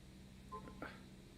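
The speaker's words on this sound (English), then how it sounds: "I don't know why my phone is all beepy." A phone gives a short burst of electronic beeps, a couple of quick tonal blips over a faint steady background hum, with no talking.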